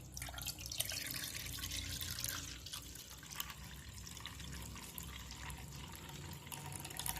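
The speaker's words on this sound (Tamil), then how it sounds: "இப்போ 4 கப்பு தண்ணி இப்போ இதில் சேர்த்துடலாம்." Four cups of water poured into a tamarind mixture while making panakam, a steady close splashing rush of running liquid that lasts throughout without pause, with no talking.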